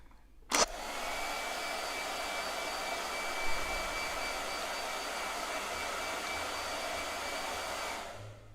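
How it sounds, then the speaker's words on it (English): A handheld hair dryer switches on with a sharp click and blows at a steady, even whoosh and whine for several seconds at moderate level, with no talking, before cutting off near the end. "Blow dryer."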